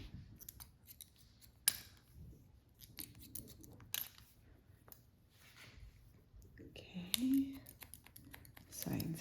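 Scissors snip short hair during a textured pixie cut, a few light, close cuts scattered among quiet handling rustle and brief low murmurs.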